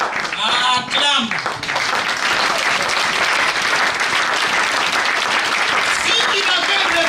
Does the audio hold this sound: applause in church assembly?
yes